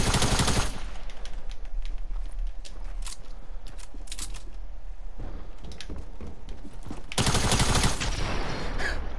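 Rapid bursts of automatic gunfire in Fortnite, loud and close at the start and again near the end, with scattered distant shots and crackle in between.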